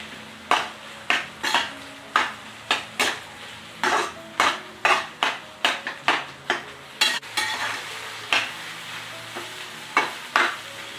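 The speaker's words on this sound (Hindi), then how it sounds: "बस हमें इसमें ऐड करना है थोड़ा सा कोरिएंडर एंड इसे एक बार मिक्स कर लेते हैं।" Paneer bhurji with fresh coriander stirred in a pan, giving a regular run of close, clanking spoon strokes against the metal over a soft sizzle, without speech.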